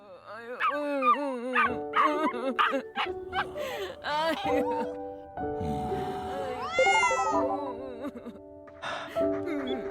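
Dogs and a cat waiting together: a rapid mix of yips, barks, whimpers and high meows, close and lively, overlapping in quick succession over about ten seconds.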